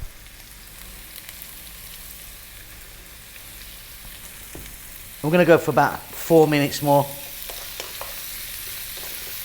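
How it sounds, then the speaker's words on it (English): Red cabbage and other vegetables seasoned with salt and black pepper are stir-fried in a pan for a vegan beetroot soup. A soft, steady sizzle runs throughout, with a person speaking over it midway. "stir frying this around"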